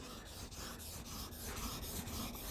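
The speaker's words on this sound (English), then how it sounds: "I want to grind the metal until it comes up over the edge like this" A knife blade is ground on a diamond sharpening stone with steady, continuous rasping strokes, close and fairly even in level, without speech.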